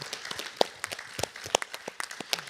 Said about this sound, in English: if we could give a round of applause for all of our speakers for coming out tonight.